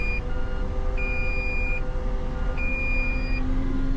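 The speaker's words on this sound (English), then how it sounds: "that alarm's just letting us know that our bed's still up in the air" A dump truck's raised-bed warning alarm beeps steadily, long tones repeating about every second and a half over a low, constant diesel engine rumble.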